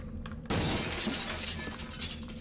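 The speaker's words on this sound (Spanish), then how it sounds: "Ahí, rompiendo los cristales," Glass windows shatter in the survival horror video game Obscure 2: a sudden loud crash followed by a sustained spray of tinkling shards.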